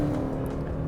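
Lexus ES300h hybrid with a CVT accelerating onto a highway, giving a steady, sustained engine and road drone at close range with no change in pitch.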